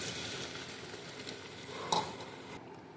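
Water poured into simmering paneer pasanda gravy in a pan, a soft continuous sizzle and hiss with a faint clink partway through, then a sudden drop to quiet.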